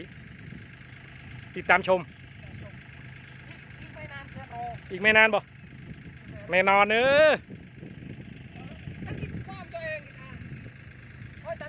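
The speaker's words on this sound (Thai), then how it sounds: "เดี๋ยวมาดูรถเกี่ยวลากรถไถ" A combine harvester towing a tractor through soft farm soil, its engine rumbling steadily at a low idle, while someone talks and calls out in short loud bursts over the machinery.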